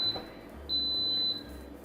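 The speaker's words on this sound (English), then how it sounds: "it basically beeps because it brings it to a boil" An Instant Pot electric pressure cooker making yogurt gives three electronic beeps, two short and one longer, fairly steady and clear over a low background hum.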